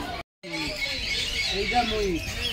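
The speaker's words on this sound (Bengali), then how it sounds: "এই ঘরের ভিতর কিছু পাখি আছে" Bird chirps and squeaky calls in a zoo aviary at Alipore Zoo, Kolkata, mixed with a steady hiss and some faint voice-like murmurs, after a brief dropout near the start.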